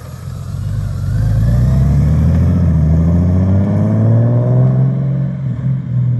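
A 2018-or-later Honda Goldwing motorcycle fitted with a Remus Performance Sport Exhaust, its engine rumbling up and revving with a deep, rising exhaust note that stays loud and close for several seconds with no talking.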